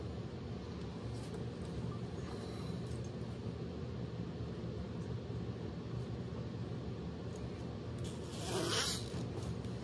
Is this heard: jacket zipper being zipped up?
yes